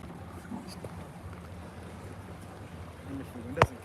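Wind gusting at a lake, a steady low rushing buffet across the microphone with a sharp bump near the end, no clear speech over it.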